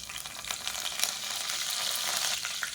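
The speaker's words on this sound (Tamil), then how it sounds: "கடுகு சோம்பு பொரியுது," Mustard and fennel seeds splutter in hot oil for a chutney tempering, a steady close sizzle dotted with small crackling pops and no talking.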